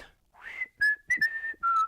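A person whistles a short tune alone, a few clear sustained notes with brief gaps, close and fairly loud.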